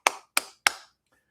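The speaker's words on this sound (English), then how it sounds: "I want to give them a clap off." Three sharp hand claps at an even, slightly spaced rhythm, close and clear, each with a short decay, followed by silence.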